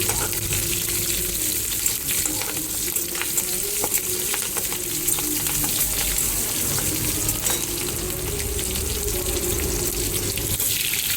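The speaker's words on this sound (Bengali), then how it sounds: "আলুগুলো একটু নাড়াচাড়া করে তারপরে ঝিঙে আর ডাটাটা দিয়ে দেবো দিয়ে নুন হলুদ আর একটু আদা বাটা দিয়ে কষবো" Potatoes, ridge gourd and stalks sautéing with salt and turmeric in a pan, a continuous close sizzle with bursts of stirring and scraping throughout, fairly loud and steady.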